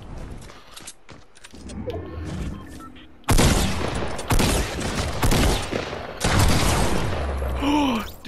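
Gunfire in the Fortnite video game, with a pump shotgun among the weapons: loud, dense bursts of shots come in waves after a quieter stretch, and faint voices sit under the noise.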